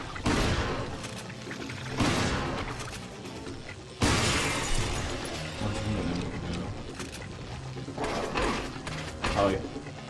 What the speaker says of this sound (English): Stop wasting your shotgun ammo from afar.